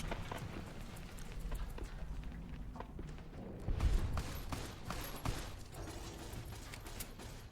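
Gunfire in the video game Fallout: New Vegas: scattered sharp shots crack at irregular moments, faint and distant over a low background rumble, with one heavier thump midway.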